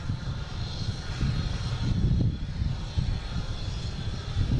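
A Delta airliner departs Boston Logan bound for Rome, its engines producing a low, rumbling roar with fluctuating intensity that stays moderately loud throughout.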